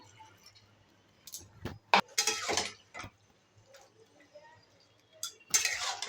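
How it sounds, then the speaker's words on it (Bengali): A spoon stirs dried fish curry in a pan, making scattered scraping clanks and clinks in short bursts separated by quiet gaps. "এটাকেও আরও 5 মিনিট এভাবে নাড়াচাড়া করতে হবে।"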